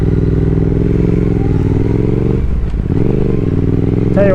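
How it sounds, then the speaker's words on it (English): A Triumph Speed Twin 1200 motorcycle with a small liquid-cooled engine pulls away on a spring road, its steady engine note rising through a gear change, loud and close throughout. "a little liquid cooled engine, and it gets off the line okay"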